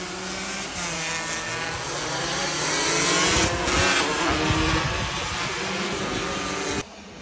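Two-stroke 150cc racing motorcycles at a track day race finale, engines screaming loudly and continuously in a dense buzzing howl that swells midway, then cuts off abruptly near the end.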